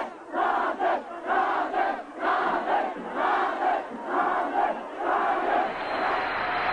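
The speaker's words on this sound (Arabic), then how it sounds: "الجماهير خرجت إلى الشوارع وهي تصيح: ناصر ناصر إحنا معاك" Archival street crowd chanting Nasser's name, a large mass of voices shouting in a steady repeated rhythmic pattern of roughly one chant per second, sounding somewhat distant and lo-fi.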